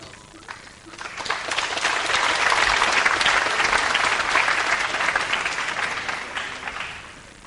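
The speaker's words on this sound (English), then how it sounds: "Well, the crowd responded to that shot with applause." A tournament pool crowd at the 2003 World Pool Championship breaks into sustained applause for a shot, swelling after a second and holding steady and loud before tapering near the end.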